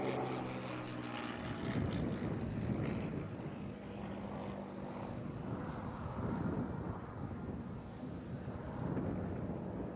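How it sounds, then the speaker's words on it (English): A P-51D fighter's piston engine drones continuously as the plane climbs into a barrel roll at a seaside airshow, a distant, wind-buffeted propeller roar that swells and fades slightly. "Pulling up immediately into wonderful big barrel roll. One of the most iconic and potent fighters of all time."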